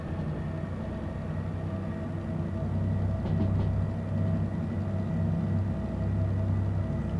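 Steady locomotive rumble with a constant low engine drone held under throttle in Derail Valley, a train simulation game, running continuously and fairly loud throughout with slight swells in level.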